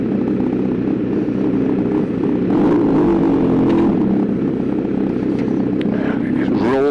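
A Kawasaki Z900RS Cafe with a full Racefit titanium exhaust idles loudly and revs, a deep rumbling drone that swells mid-clip and rises sharply near the end, with someone talking over it.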